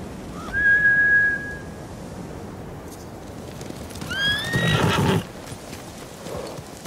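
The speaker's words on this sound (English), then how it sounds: "Bastards scared off the horses. They're samurai mounts," Horses whinny twice in a Ghost of Tsushima game scene, a bright drawn-out neigh near the start and a louder layered whinny later, over a steady rustling outdoor bed with soft background noise.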